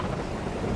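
Rain and rumbling thunder in Farming Simulator 22 form a dense, continuous wash of noise, loud and unbroken for under a second.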